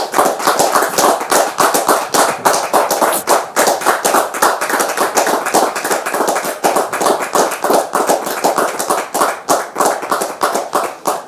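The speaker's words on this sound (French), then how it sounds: "Merci de la recevoir sous vos applaudissements" A studio audience applauds to welcome a guest, a loud, continuous patter of many hands clapping close by, with a rapid, uneven rhythm sustained for about eleven seconds.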